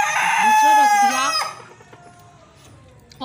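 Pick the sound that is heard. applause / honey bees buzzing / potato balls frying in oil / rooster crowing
rooster crowing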